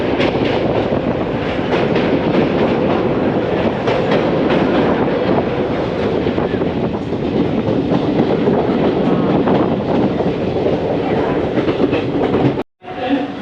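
A passenger train pulling out of Aluva station on a long-distance run toward Thiruvananthapuram, with a loud, continuous rumble and rhythmic wheel clatter heard from inside the carriage and a brief dropout near the end.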